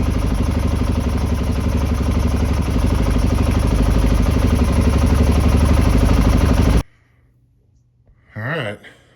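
Honda XR650R motorcycle engine idling close by with a steady rumbling, slightly uneven chug that cuts out abruptly near the end, followed by quiet and a brief voice.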